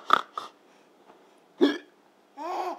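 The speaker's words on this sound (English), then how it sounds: "Hiccups are funny." A baby lying on the floor hiccups several times, short sharp breathy jolts spaced irregularly and heard close, followed by a babbling vocal sound.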